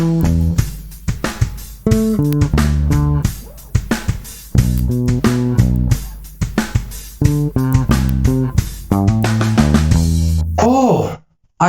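An electric bass plays a punchy, staccato riff with a backing track, rhythmic plucked notes over steady beats for about eleven seconds, ending with a brief bent tone.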